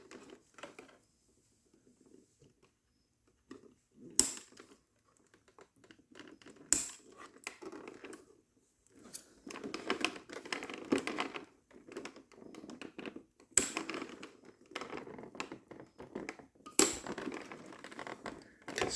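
Scissors snip through the plastic packaging of a Mattel Masters of the Universe Motherboard action figure, a series of sharp cutting clicks and crinkles spread across the clip, fairly close and moderately loud with quiet handling between cuts.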